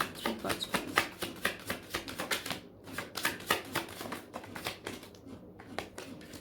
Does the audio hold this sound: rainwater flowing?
no